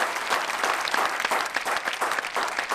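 A studio audience at a Hindi poetry show applauds steadily, many hands clapping in a dense, continuous patter that stays loud for a few seconds.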